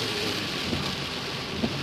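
Steady hiss of heavy rain pounding down on the backside of a hail storm near Hermosa, a dense even wash with a couple of faint thuds, no voices.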